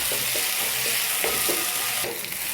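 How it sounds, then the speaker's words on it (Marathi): Finely chopped tomato frying in a pan with ginger-garlic paste, a steady close sizzle broken by several soft rhythmic stirring scrapes, no voices. "एक मोठ्या आकाराचा टोमॅटो बारीक चिरलेला, त्याला मस्तपैकी फ्राय करून घेऊ"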